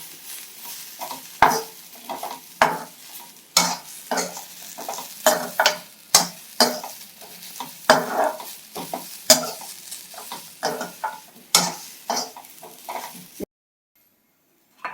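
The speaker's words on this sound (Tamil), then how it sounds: "எண்ணெய் ஊற்ற வேண்டாம் சும்மா வதக்குங்க" Okra being dry-sautéed in a pan without oil for a Thoothukudi-style vendakkai masala, with repeated scraping stirs and soft sizzling in an irregular rhythm, close up and alone, cutting off abruptly near the end.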